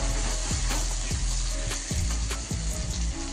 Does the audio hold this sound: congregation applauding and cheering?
no